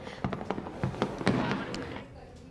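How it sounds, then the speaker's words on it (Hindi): Fireworks bursting at an evening Makar Sankranti celebration in Jaipur, a series of sharp pops and crackles at irregular intervals over a busy crowd murmur, moderately distant. "किस तरह से विशिंग लैंप और आतिशबाजी का दौर एक बार फिर से यहाँ पर शुरू हो चुका है"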